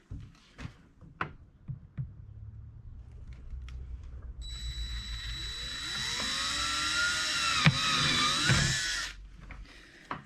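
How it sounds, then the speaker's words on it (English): A power drill bores a pilot hole into a plastic bucket with a rising, sustained whine after a few light knocks and handling sounds, fairly close and clear. "now I'm just going to drill a pilot hole before I start using my step bit to make"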